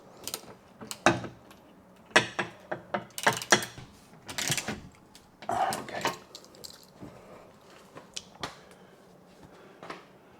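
A ratchet drives the last screw while a storage rack is mounted for a Harley-Davidson Tour-Pak, giving irregular bursts of quick clicking and clattering up close, with no talk.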